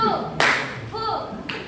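A single sharp hand clap rings out, followed by a second clap moments later, with a voice talking around them.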